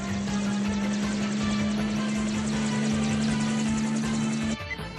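Hijacked helicopter flying in an anime, a loud steady rotor and engine drone holding a constant pitch that cuts off abruptly near the end, with no talking.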